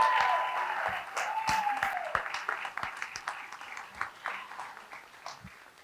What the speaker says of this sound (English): the biggest round of applause goes to Karis Griffin because she pulled all